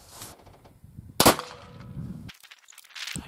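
A .50-caliber muzzleloader fires a squirrel load with one sharp, loud report, followed by a short ringing decay, set among soft handling noises.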